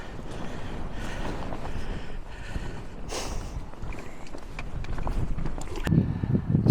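Steady wind buffeting a small cairn-topped fell summit in the outlying fells, a continuous rushing roar with gusty swells and rumbling microphone buffeting that grows stronger toward the end.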